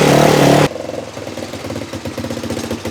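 A mud-trip vehicle's engine idles roughly with a steady low pulsing rumble, close by and loud, after a brief louder burst at the start.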